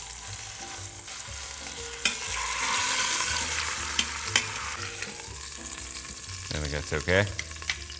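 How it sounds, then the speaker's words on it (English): Chuck roast searing in an Instant Pot, a steady close sizzle with occasional stirring clatter and a short spoken remark near the end. "I finished searing the roast."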